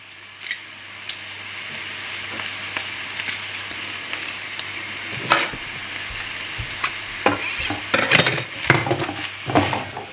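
Garlic cloves frying in a pan, a soft continuous sizzle broken by scraping stirs and occasional clinks of a utensil against the pan, which grow busier toward the end.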